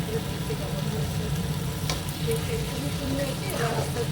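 Food braising and frying in a pan, a continuous close sizzle with occasional light scrapes of stirring throughout.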